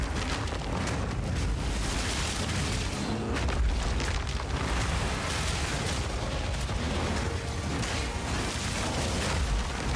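Video game explosions boom in a dense, unbroken barrage as fire-themed enemies teleport onto the player and spam blasts, loud and constant with rumbling bursts layered on top of each other.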